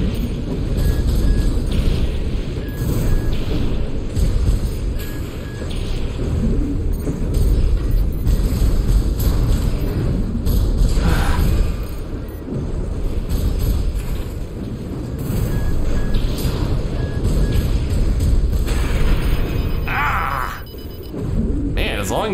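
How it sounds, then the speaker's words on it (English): Artillery cannon fire and explosions in Armored Core VI combat: a dense, continuous low rumble and roar that swells and sustains with heavy blasts for the whole stretch, fairly loud throughout. "That must have been the big artillery cannon."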